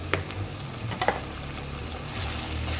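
Summer vegetables fry and get stirred in a pan with green chillies, a steady low sizzle underneath with a couple of brief scraping clatters of the spoon early on, close by and fairly quiet.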